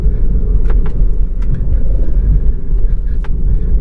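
A BMW E90 sedan on a road trip rolls over a bumpy road, giving a heavy low cabin rumble punctuated by sharp knocks and thumps from the uneven surface, close and loud, with no talking.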